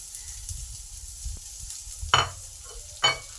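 Chopped onion sizzles in a hot pan, a soft steady crackle with a couple of sharper bursts as it is stirred.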